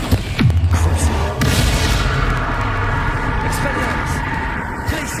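Bombarda spell blast from the Hogwarts video game, a deep booming burst at the start that rolls into a sustained rumbling roar with shouted spell calls and game effects mixed over it.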